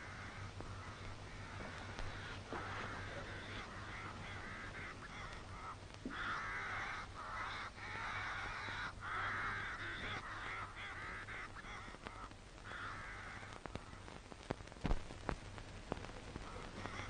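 Crows caw repeatedly around a rural hollow, their harsh calls layered and overlapping at a moderate distance, continuing throughout over a low steady hum, with no voices.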